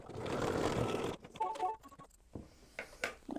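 An embroidery machine stitches the placement line for a snowman's head on an in-the-hoop mug rug. A dense, loud run of needle stitching comes first, then it stops and is followed by a few light clicks and taps.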